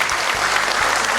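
Audience applause at a Baladika Bali anniversary gathering in Bali, a brief steady burst of many hands clapping close and dense throughout.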